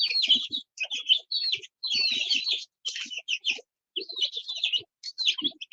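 Chicks and chickens of several breeds chirp constantly in a dense, high peeping chatter, broken by short pauses, with a few low clucks underneath. The sounds are close by and moderately loud, with no talking.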